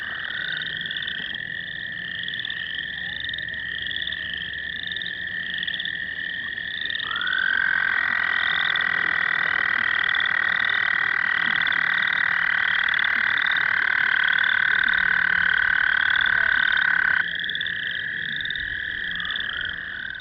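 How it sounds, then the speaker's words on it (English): A toad trills in a long, steady, high-pitched buzzing call that holds for many seconds, loud and close, over a background chorus of other pulsing frog calls. "a toad can trill for almost an entire minute if they want to"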